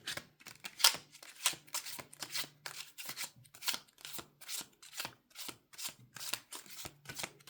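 Tarot cards are shuffled in quick repeated riffles and swishes, close and crisp, a steady rhythmic flutter with no talking.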